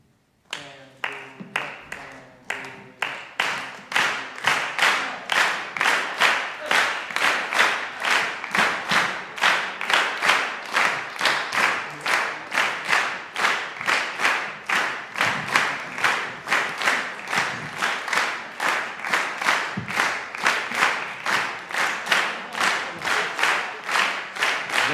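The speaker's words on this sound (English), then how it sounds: "So can we clap the Bambula real quick with each other?" A group claps the Bambula rhythm together in unison at a jazz summer workshop symposium, repeating a steady syncopated pattern of sharp, fairly close hand claps that continues for the whole passage with no talk over it.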